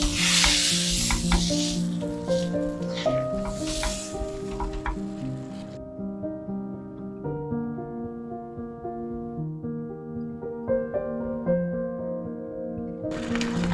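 Cucumber coconut cake batter folded and stirred in a pan over the flame, steady sizzling with spoon scrapes, loud at first and then softer.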